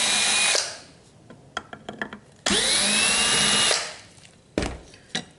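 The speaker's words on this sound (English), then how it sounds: "Yeah, electric drill does make it quicker, don't it?" An electric drill works on a custom gun trigger guard in two long whirring bursts, each spinning up and winding down, with short clicks and handling knocks between and a brief final burst, close and alone.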